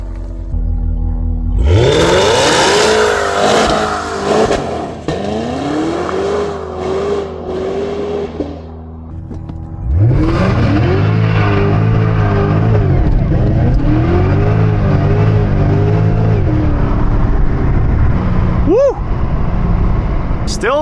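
A 640-horsepower Cadillac CTS-V engine revs hard and repeatedly during a burnout, pitch rising and falling in loud bursts with a brief dip in the middle, close and aggressive.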